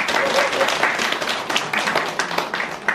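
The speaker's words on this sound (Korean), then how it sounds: "우리 여러분 다 같이 박수 한번" An audience at a literary award ceremony and book launch claps steadily and densely throughout, a close, continuous round of applause.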